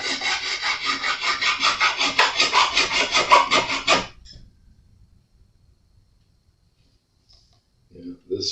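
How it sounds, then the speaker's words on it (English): A file levels stainless steel jumbo frets on a Jazz Bass neck with close, rapid back-and-forth rasping strokes for about four seconds, then stops, leaving near silence and a couple of faint knocks. "This file is going to load up a lot faster. These are stainless steel, so they're not like nickel."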